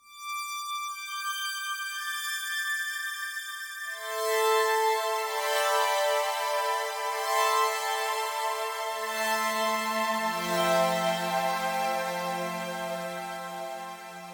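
A saw-wave lead from the Vital software synth with pitch vibrato, reverb and phaser, stacking sustained notes that enter one by one and then swell with wavering pitch, bright and steady throughout.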